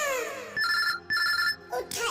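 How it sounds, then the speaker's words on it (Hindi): An incoming call sets a telephone ringing in a room, with two or three loud, close electronic ring bursts separated by brief gaps, heard alone. "ये देखो फोन आ गया उसका।"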